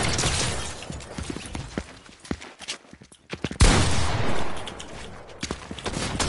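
Rapid bursts of gunfire from a Fortnite match, a sharp crack of shots near the start followed by dense, busy firing and movement sounds throughout, loud and close with no talk.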